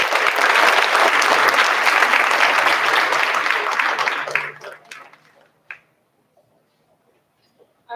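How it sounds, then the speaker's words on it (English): Loud sustained applause from a large audience at a school district board meeting, fading out to quiet with a few last scattered claps. "please join me in giving her a heartfelt round of applause"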